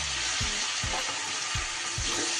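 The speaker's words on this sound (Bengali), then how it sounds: "খুব ভালো করে কষাতে থাকবো যতক্ষণ না তেল ছাড়ছে।" Tomato paste sautés in hot oil with chili powder for a Bengali bhetki fish curry with cauliflower and potato, giving a steady close sizzle broken by four soft, evenly spaced stirring scrapes.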